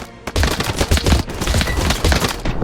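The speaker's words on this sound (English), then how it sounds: "Now look at that real-time artillery strike, ladies and gentlemen. And listen to the sound as well." Artillery strike in the video game TABS during a WW2 Battle of France battle: a loud, dense volley of repeated sharp blasts and crackling impacts with rapid irregular rhythm.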